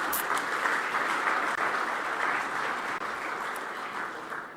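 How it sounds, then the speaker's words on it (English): An audience at a racing awards ceremony applauds the finalists, steady, even clapping from a sizeable crowd that holds its level and slowly tapers off. "A round of applause for all, please."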